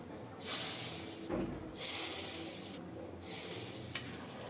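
Spiced oil tempering of fried cumin and radhuni poured onto mixed vegetables, giving loud bursts of hissing sizzle that swell and fade in a few waves, close up with no talking.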